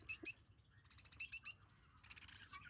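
Caged parrots and other pet birds in a pet shop chirp and squawk in busy overlapping bursts, bright and fairly close, with short pauses between flurries.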